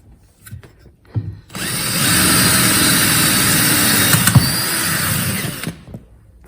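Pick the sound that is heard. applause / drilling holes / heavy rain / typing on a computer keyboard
drilling holes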